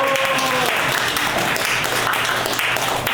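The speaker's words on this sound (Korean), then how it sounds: "박수 한번 가야지." Audience applause at an economics lecture, a roomful of people clapping in a dense, loud, continuous stream, with a voice briefly audible early on beneath the clapping.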